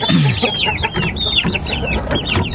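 Chicks and hens cluck and chirp close by as young chicks peck at their feed, with steady peeping and soft clucks running through, mixed with light tapping and scratching.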